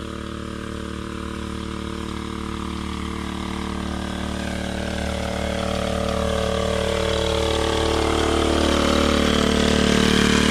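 A motorized sprayer engine runs while spraying a vegetable garden with sponge gourd vines: a steady, loud buzzing drone that grows gradually louder and a bit rougher over the clip.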